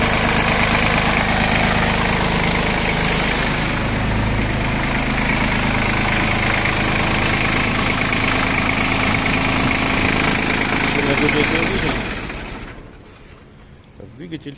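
An ISEKI SIAL26F Japanese mini tractor's engine idles steadily in a loud, even diesel rumble that drops off abruptly near the end, with someone talking over it.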